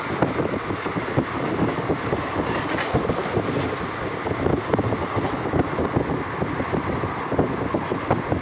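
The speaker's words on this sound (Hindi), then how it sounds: "और मैं अभी ट्रेन में विंडो में बैठा हूँ" Loud, continuous rumble of a train running on rails, heard from a window seat inside the carriage, with steady clattering and wind rush throughout.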